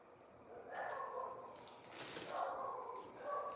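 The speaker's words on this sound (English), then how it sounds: "My dogs are going crazy." Dogs bark in bursts in the background of an indoor woodworking session, with a few quick, mid-distance yips spread across the clip and no talking.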